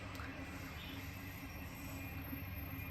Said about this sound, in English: oh God, that train's long